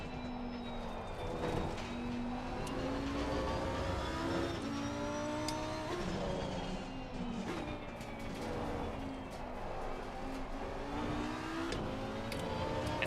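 Lamborghini GT3 race car lapping the Kyalami circuit in a racing video game, engine note rising and falling steadily through gears with continuous revving and whine, loud and close throughout with no talk.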